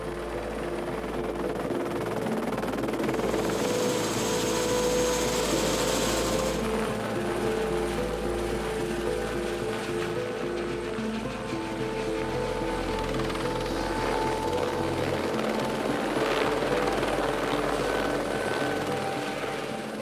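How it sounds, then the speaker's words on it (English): A Kenya Wildlife Service aircraft returns after dropping off an armed team, its steady, droning engine roar holding loud and unbroken for the full twenty seconds. "Pilot Mike Watson returns from dropping the first team."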